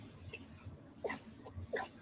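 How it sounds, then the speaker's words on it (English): A cat sneezes twice in quick succession, short sharp bursts near the listener against a quiet indoor background. "My cat just exploded into sneezes."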